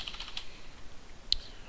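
Soft, quiet keystrokes on a computer keyboard while code is typed, a few scattered taps and one sharper click near the end, with no talking.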